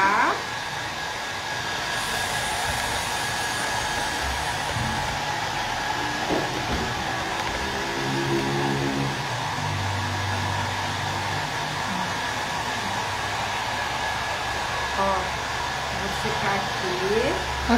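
A hair dryer blows steadily and loudly on a craft bookmark, a continuous close whoosh running throughout with faint background sounds.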